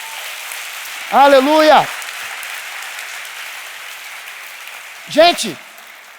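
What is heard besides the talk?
congregation applauding in church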